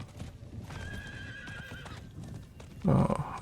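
Hooves clip-clop as a mount gallops in Diablo 4, an even run of hoofbeats with a neigh, ending in a louder burst of movement near the close.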